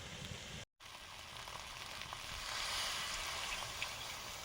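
Water poured into a hot pan sets off a steady, hissing sizzle after a brief silent gap, growing slightly louder and continuing evenly, with no one speaking.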